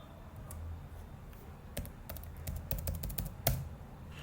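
Quiet computer keyboard typing of a terminal command, a scattered run of sharp key clicks at close range with pauses between bursts.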